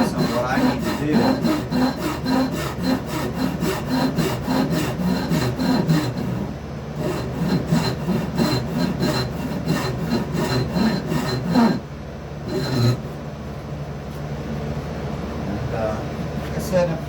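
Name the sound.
hand saw cutting wood for a shakuhachi flute mouthpiece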